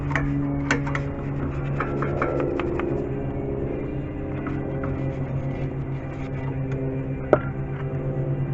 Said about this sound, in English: make sure you clean this really good with a nice wire brush